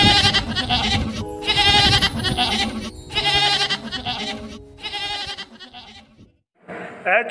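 A goat bleats repeatedly in loud, wavering cries, several calls in a row with short gaps between them, close and clear.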